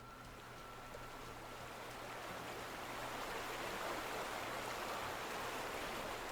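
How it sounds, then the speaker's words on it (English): Steady, loud rushing water from a stream or waterfall in the video game The Vanishing of Ethan Carter, a continuous broadband roar holding even throughout with no voices. "That rushing water sound will do it to you."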